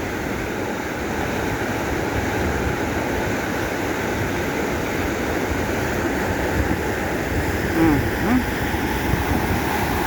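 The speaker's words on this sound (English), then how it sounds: "Still a lot of water coming over." Floodwater from the Gamka river pours over a wall in a steady, loud, broadband roar that holds unchanged for about ten seconds, with no other sounds breaking through.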